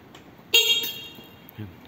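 A single short e-bike horn beep sounds once, close by, with faint murmuring voices around it.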